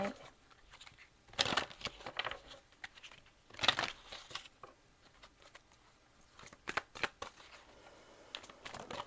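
Tarot cards shuffled and drawn by hand during a reading, quick papery riffles and slides arriving in short bursts, two louder flurries among softer card taps, close and fairly quiet with brief bits of talk between them.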